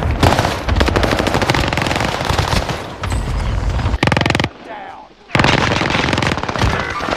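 Dense, rapid automatic gunfire in Warzone, with several players shooting at once. Loud, sustained bursts crackle almost continuously, break off briefly, then resume.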